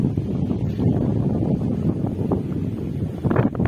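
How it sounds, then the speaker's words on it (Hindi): Strong wind in a village during rainy weather roars as a continuous low buffeting rush against the microphone, loud and close, with a few heavier gusts near the end. "काफी तेज हवाएं चल रही है"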